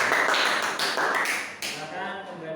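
Classroom applause from students after a presentation, a dense burst of clapping that fills the clip and thins out toward the end, with voices mixed in.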